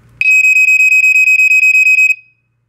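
Black & Decker SMK6D/M1 smoke alarm on test, sounding a loud, piercing run of about fifteen rapid identical beeps close by that stops abruptly after two seconds.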